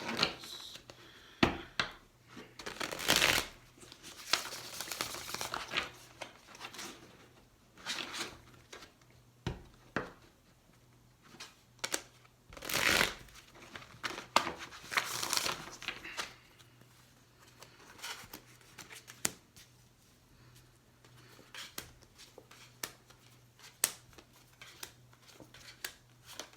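Tarot cards are shuffled in soft, intermittent riffling bursts with papery slaps and scrapes, close but quiet, separated by pauses of near silence.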